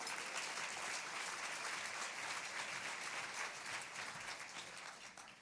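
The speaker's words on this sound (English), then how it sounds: "Give her a round of applause." An audience at a luncheon gives sustained, dense applause, steady and fairly close, easing slightly toward the end with no speech over it.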